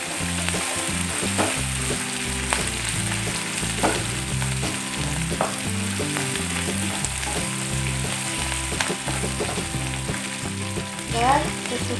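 Ground spice paste and spring onion sautéing in a pan for Indonesian beef rib soup: a steady, close sizzle and crackle of frying, with faint stirring and scraping throughout.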